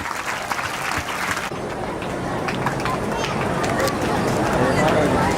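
An audience claps loudly and continuously, the applause building and holding steady throughout, with voices in the crowd mixed in.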